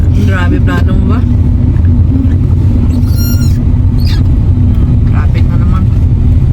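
Road traffic heard from inside a moving car: loud, steady low engine and road rumble that continues throughout, with people talking over it and a brief higher sound partway through.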